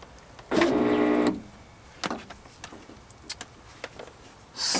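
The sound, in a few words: power window rolling up in Honda Civic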